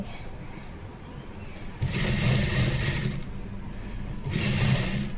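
A sewing machine runs in two close, steady bursts of whirring stitching as rope piping is sewn around a round blouse neckline, with a short quieter gap between them and no speech.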